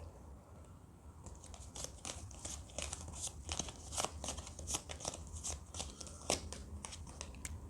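Playing cards shuffled and dealt in a quiet room, a steady run of crisp riffling and snapping flicks, close and moderately loud, with no talking.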